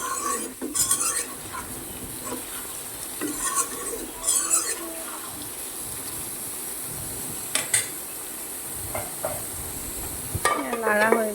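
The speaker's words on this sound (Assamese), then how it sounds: "এতিয়া এইখিনি আধা ভাজা হৈছে আলুখিনি অলপমান সিজিব বাকী আছে" Half-fried potatoes sizzle steadily in a pan while a utensil stirs them, with scattered scrapes and metallic clinks against the pan rising above the constant frying hiss.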